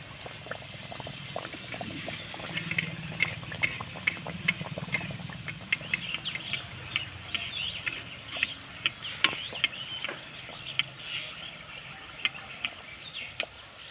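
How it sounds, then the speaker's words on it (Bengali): Potato and flour snack dough frying in hot oil, a steady soft bubbling crackle with scattered sharp pops throughout, moderately close and fairly quiet, with no talking. "তো আবারও আমি তেলের মধ্যে ছেড়ে দেব।"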